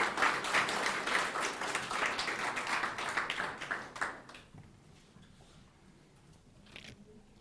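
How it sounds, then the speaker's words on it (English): An audience at a mergers and acquisitions research conference applauds in a dense, steady round of clapping that thins out and fades after a few seconds, leaving a few isolated claps. "can we give a round of applause for Tom and Ron?"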